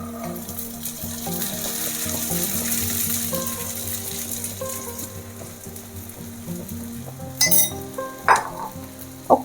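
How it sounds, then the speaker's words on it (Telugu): Soaked sago and peanut powder being stirred in a pan, with a soft continuous scraping and sizzling texture, a few brief sharper clinks near the end. "ఒక్కసారి మంచిగా కలుపుకుందాము."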